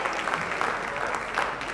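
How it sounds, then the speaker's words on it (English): An audience at an outdoor gun auction during a freedom festival claps in a steady, moderately loud round of applause. "round of applause to everybody"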